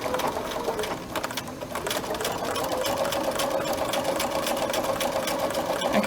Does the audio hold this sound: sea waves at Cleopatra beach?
no